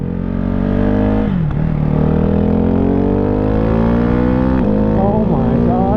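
Ducati Hypermotard 698 Superquadro Mono single-cylinder motorcycle accelerating hard on a desert road, a loud close engine note climbing through the revs with a gearshift dip partway and another surge near the end.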